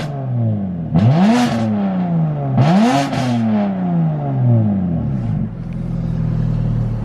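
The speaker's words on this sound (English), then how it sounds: "give you guys a couple revs" A car with an aftermarket exhaust setup revs twice, each sharp rise settling back into a loud, burbling idle that rumbles on steadily between the revs.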